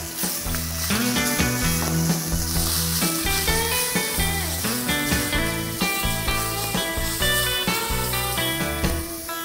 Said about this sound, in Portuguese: Bem quente já, jogo o frango e deixo fritar.